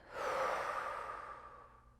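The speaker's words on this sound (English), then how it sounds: "Just take a breath in and out." One slow, deep breath drawn in and let out, soft and close, swelling and then fading over about two seconds with nothing else heard.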